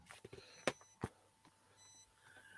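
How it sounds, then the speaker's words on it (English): Short electronic beeps, a couple of sharp bright tones with faint steady high tones in between, fairly quiet with background room noise. "it's beeping when I change screens"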